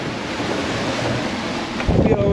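Strong wind of about 26 knots buffets the microphone at sea aboard a sailing boat, a steady rushing roar with waves washing beneath and a brief louder gust near the end.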